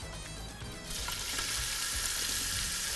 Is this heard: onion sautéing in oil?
yes